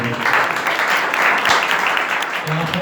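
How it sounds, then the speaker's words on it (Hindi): Loud, dense applause from a congregation at a Pentecostal church New Year service, a continuous wash of many hands clapping together at steady volume from start to finish. "आए खुदावन के जलाल के लिए जोरदार तालियां बजाएं।"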